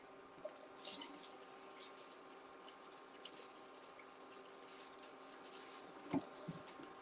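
Water runs from a kitchen tap to rinse down the sides of a blender after blending soup, a steady faint hiss with a few splashy bursts.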